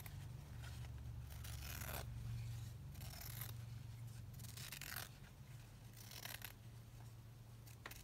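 Scissors cut out circles of fabric scraps for vintage-style yo-yos: repeated close, quiet snips and crisp slicing strokes come in bursts across the clip, with no voices.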